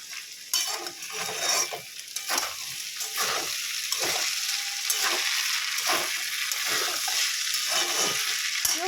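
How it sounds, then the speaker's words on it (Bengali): Rice fries in oil with cashews and raisins, a steady sizzle broken by repeated scraping stirs of a spoon in the pan, close and moderately quiet. "এবার একটু রাইসটা ভালো করে ভেজে নেবো।"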